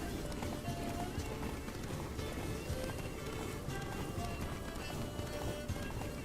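Roach the horse gallops in Witcher 3, with steady clip-clop hoofbeats running continuously under game ambience and faint background voices.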